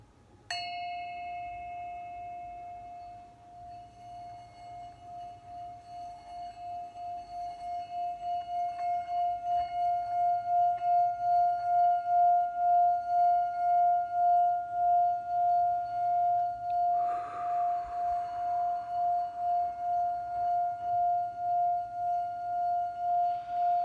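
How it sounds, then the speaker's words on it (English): A Tibetan bell rings out in a single sustained, pure tone that swells and pulses slowly, struck again partway through and left to resonate alone in a quiet room. "So I'm gonna just play my Tibetan bell so that we can all get present"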